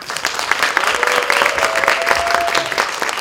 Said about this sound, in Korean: 우리 최현주 셰프를 크게 큰 박수로 한번 모시도록 하겠습니다.